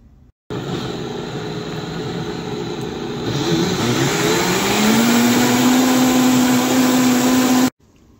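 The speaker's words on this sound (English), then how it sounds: "Because that Vitamix is really going to get it all mixed together really well." A Vitamix blender whirs at a loud, steady roar while mixing chile relleno batter, its pitch rising partway through as it speeds up, then it stops abruptly.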